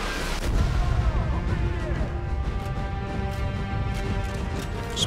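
Sniper rifle shots fire during Sniper Elite V2 gameplay, a single sharp crack near the start followed by booming, rumbling game audio and a sustained musical score running throughout.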